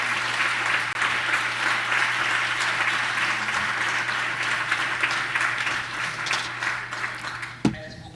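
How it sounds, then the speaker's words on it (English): Steady applause from an audience fills the whole stretch, a dense wash of many hands clapping at an even level, ending with a single sharper knock. "I would like for you to give a round of applause to them."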